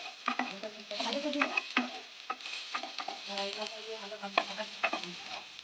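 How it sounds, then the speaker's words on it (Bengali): Diced potatoes and yardlong beans sizzle in a pan while a spoon stirs and scrapes them in quick irregular strokes, close and fairly soft, with the frying hiss running under the clatter. "চলো আলুটাকে আর বরবটিটাকে তাড়াতাড়ি করে ভেজে নিই।"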